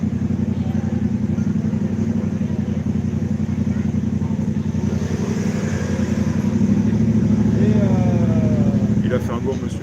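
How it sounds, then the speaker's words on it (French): An idling motorcycle engine rumbles low and steady nearby, left running without a pause while people talk over it. "ta moto, tu la laisses comme ça, tu l'éteins pas"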